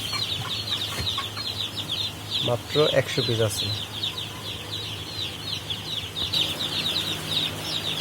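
Tiger chickens cluck and chatter continuously in a rapid, rhythmic stream nearby, while someone talks over them briefly.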